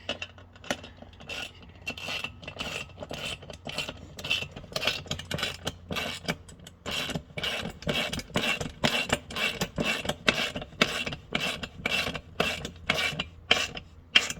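Wrench clicking while tightening bolts on aluminum tubes during frame assembly, a steady run of close, rapid ratcheting clicks and scrapes lasting throughout, with no talking.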